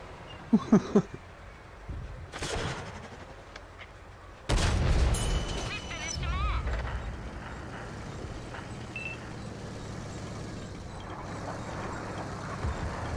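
Tank cannons boom in World of Tanks on console, with a few sharp shots early and then a heavy blast followed by a lingering rumble and mid-distance battle noise.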